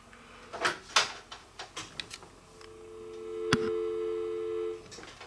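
A phone handset on a home-built dial-up ISP server over an Ethernet LAN gives a series of clicks and knocks, then a steady telephone line tone that hums for about two seconds before cutting off, close and moderately loud.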